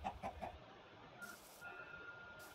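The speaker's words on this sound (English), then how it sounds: "I'll kill that chicken because I do need food" Brief clucks from a Minecraft chicken, three quick soft notes at the start, then quiet game ambience at low level.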